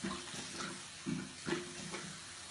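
Running water rinsing a scrub off skin, a soft, steady splash and trickle with a few louder surges, faint and close, with no talking.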